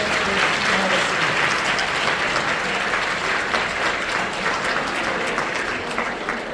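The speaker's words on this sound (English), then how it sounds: "A round of applause for my helpers." Conference audience applauding stage helpers after a mentalism act, a loud, dense, continuous round of clapping from a large crowd throughout.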